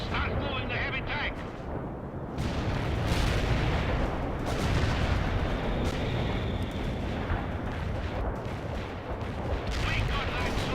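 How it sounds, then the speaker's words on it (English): Heavy tank armor fires in the World in Conflict video game, a dense battle scene of booming cannon blasts and explosions with continuous rumbling, while voices talk over the action. "Heavy armor firing at the enemy."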